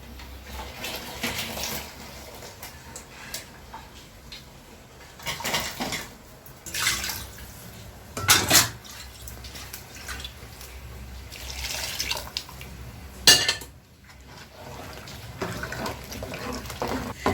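Water being poured into a pot of simmering goat meat curry in a thin, watery gravy style, with splashing and liquid sloshing in a few bursts over low kitchen background noise.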